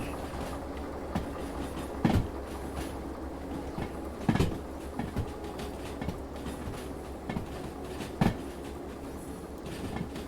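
Train cars roll on rails in the Derail Valley railway simulator game, switching in a harbor yard. A steady low rumble runs throughout, broken by periodic sharp clacks from wheels crossing rail joints, with no talking.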